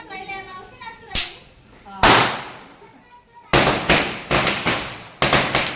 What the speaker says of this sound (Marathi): दादा फटाके फोडले